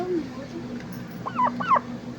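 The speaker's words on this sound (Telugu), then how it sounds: "ఈరోజు మా కోడిపెట్ట పొది చేస్తున్నాం" A hen settling on a clutch of sixteen eggs to hatch them for the first time makes a pair of short clucking calls close by, over a low, steady background murmur.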